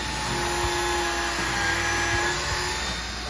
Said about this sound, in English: I'm gonna go ahead and drill a quick hole into this guy